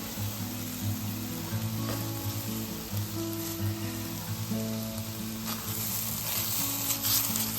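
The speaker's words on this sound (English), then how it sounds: "This only cooks about 1 to 3 minutes until the wine cooks down." White wine sizzling and bubbling as it cooks down in a risotto pan for butternut squash risotto, a steady close frying hiss with soft crackles and occasional stirring, no voices.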